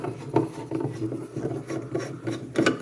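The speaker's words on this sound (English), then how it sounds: "Undo both side retaining screws." A screwdriver works the side retaining screws of a refrigerator thermostat temperature control, giving close, short grinding and rasping twists in uneven bursts, with a few small clicks between turns.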